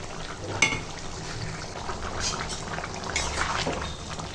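A rohu fish curry with ridge gourd, green banana and ground spice paste simmers in a pan, bubbling and hissing steadily up close with no talking.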